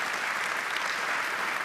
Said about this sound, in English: Absolutely deserving of the applause.